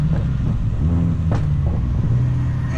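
An Elantra N engine with an aftermarket muffler hums at a steady, deep idle with a low droning exhaust note and occasional slight rises, close and continuous throughout.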